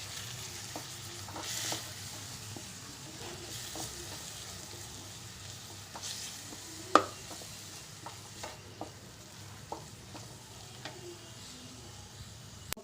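Coriander and chili powder stirred in a hot pan for vegetable kichadi, a soft continuous sizzle broken by repeated scraping strokes of a spoon and an occasional sharper clink.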